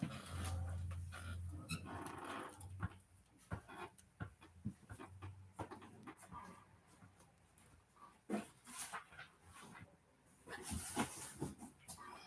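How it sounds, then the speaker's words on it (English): Sleeping dog lying on the floor, panting in quick, soft, irregular breaths heard close but faint, with a few small whimpering snuffles and quiet pauses, no talking. "I had to step over the dog"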